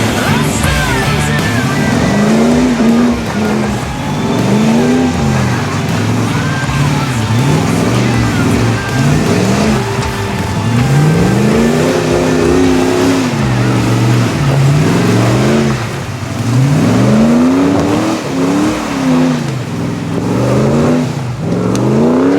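Off-road 4x4, a Landcruiser or LS-swapped Patrol, climbing a steep hill with the engine loud and revving hard, rising and falling continuously under wind and faint voices.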